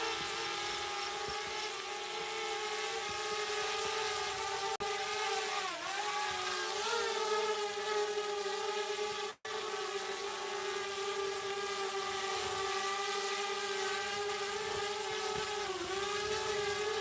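Small camera drone hovering and descending to land on a helipad, its steady whining rotor buzz close and continuous, pitch dipping briefly as it settles, with no talk over it.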